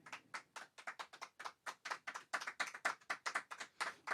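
A small studio audience at a folk music show applauds with quiet, evenly spaced claps at a steady, brisk rate, with no talking over them.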